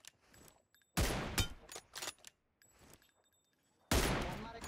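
Sniper rifle shots in a mobile shooter game played on an iPhone 15: several loud, sharp bursts, with the strongest near the start and end. There are quieter mechanical clicks between them and no talking.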